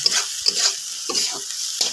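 Dried lotka shutki fish fries in a pan while a spatula scrapes it around in quick, repeated strokes over a bright, continuous sizzle, close and fairly loud, with no talking.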